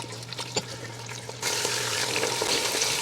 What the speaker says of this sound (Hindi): हमने थोड़ा सा इसको भून लेना है, थोड़ी सी आंच में तेज़ कर लेती हूँ